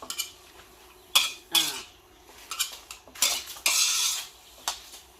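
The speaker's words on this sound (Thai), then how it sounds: "เราก็ลวนให้หมูสุกก่อน" Metal utensil stir-frying pork in a pan for a Thai pork-skin salad, with repeated scraping, clattering strokes and brief clinks in uneven bursts, close and fairly loud, with no talk.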